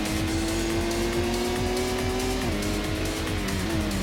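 A Honda NSX race car in Gran Turismo on the PS1 roars at a steady high pitch, with a brief dip as it shifts gear midway. The engine note is loud and constant, with a faint tire squeal.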